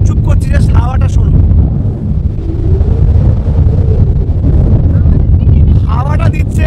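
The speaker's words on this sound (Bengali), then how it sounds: "জাস্ট আওয়াজটা শুনে বুঝতে পারবে যে কি পরিমাণে হাওয়া দিচ্ছে" Strong wind on the open beach at Mandarmani buffets the microphone in a loud, continuous low roar that fills the whole stretch, with brief voices near the start and end.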